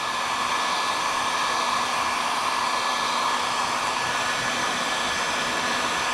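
A heat gun warms a vinyl graphics sticker, a steady, loud, close blowing roar held without a break throughout, with no speech.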